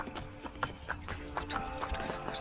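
Horses walking on the ground near a paddock, hooves clip-clopping in a light irregular rhythm, faint and fairly close, with no talk.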